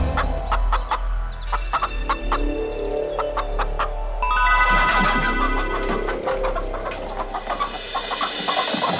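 Several hens cluck and call close by, overlapping in irregular bursts over a low background hum.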